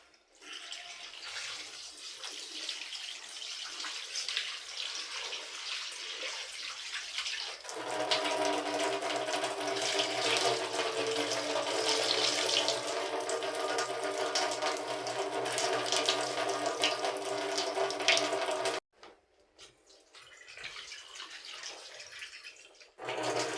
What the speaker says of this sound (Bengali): দেখো, তো এখন এই চিকেনটাকে আমি ধোবো।